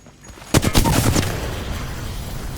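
Rapid burst of gunfire in a video game, several close, loud shots in quick succession, followed by a rushing slide sound that fades into a steady background wash.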